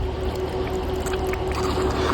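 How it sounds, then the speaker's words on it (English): Rainwater drains off through the opened roof drain channel of a car, giving a continuous close pouring and trickling wash with a faint steady hum underneath and no speech. "the water is running off"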